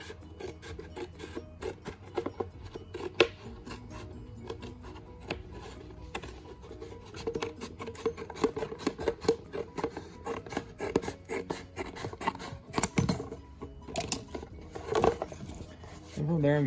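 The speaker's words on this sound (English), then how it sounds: "Just a standard pair of scissors" Standard scissors snipping through sheet gasket material, a run of short rasping, scraping cuts repeated close up with uneven rhythm, growing busier toward the end; a voice talks in the background.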